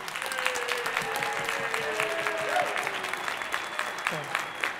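An audience at a political speech applauds steadily and continuously, with a speaker's voice running over the clapping.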